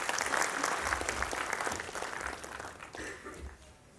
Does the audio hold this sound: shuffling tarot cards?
no